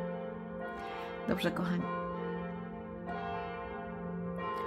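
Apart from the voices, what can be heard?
church bells ringing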